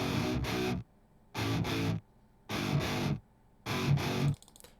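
Distorted electric guitar with a POG octave-down effect through a Brit Plexi amp and a 4x12 cabinet loaded with G12 speakers, playing four loud chugging bursts in an even rhythm, each separated by a short silence, with no voices.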